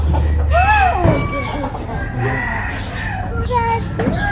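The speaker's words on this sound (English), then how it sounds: "Chickens running around everywhere in here." Chickens loose in a stockyard cluck and squawk repeatedly nearby, with a rooster-like call among them and some background voices.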